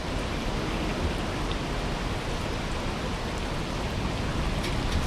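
Rain falls in the video game Aloft as a dense, constant hiss of drops, steady and enveloping throughout with no voices.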